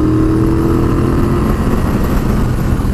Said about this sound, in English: the tremendous grunt of this 1200cc high torque engine